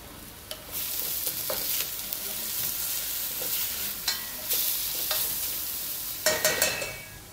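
Stuffed vegetables for petits farcis sweating in a hot rondeau pan, giving a steady soft sizzle broken by occasional scraping stirs and clinks, with no talking.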